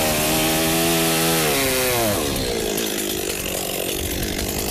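A chainsaw cuts firewood, its engine howling loudly at high revs before bogging down into the log midway, then grinding on steadily through the cut.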